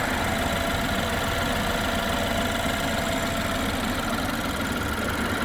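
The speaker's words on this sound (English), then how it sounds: "now we're taking a look at the turbocharged 4-cylinder engine up here at the front" A 2016 BMW 228i turbocharged 2-liter 4-cylinder engine idles steadily on its own, a continuous low rumble with a faint mechanical knock and hum, close and unbroken throughout.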